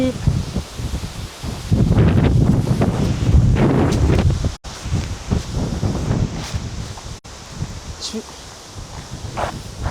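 Gusty wind buffets the microphone with low rumbling bursts, mixed with rustling leaves and a few footsteps; a person speaks briefly amid the noise.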